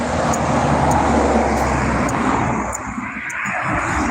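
Road traffic passing close by, a steady broadband wash of tyre and engine noise that swells loudly through the first half and then eases off slightly, with no voices.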